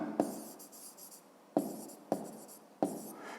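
Close, soft scratching of a pen writing figures on paper during a fifth-grade division exercise, marked by four crisp taps as new strokes begin, each followed by a fading scrape, with no speech.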